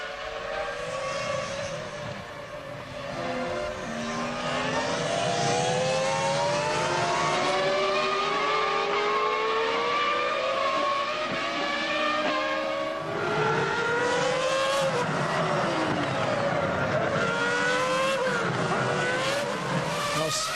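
Formula 1 cars from the 2000 French Grand Prix scream past, engines wailing and rising in pitch as they accelerate, a continuous loud blend of overlapping high-revving V10 tones that swells and sweeps with the passing cars.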